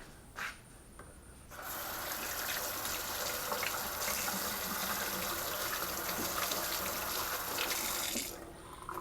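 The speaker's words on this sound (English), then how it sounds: "my hands are going to get in the sink" Hands washed under running water in a sink after laying floor tile, a steady close splashing stream that starts after a moment, runs for several seconds, then cuts off, with no talking.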